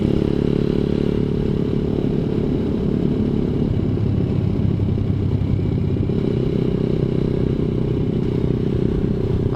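A ZS190 Grom clone motorcycle engine hums steadily and close during a relaxed ride, its low droning rumble constant throughout with faint rattles and road noise.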